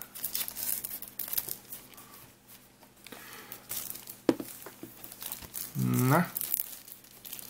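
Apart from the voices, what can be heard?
plastic film being unwrapped from a PS4 game case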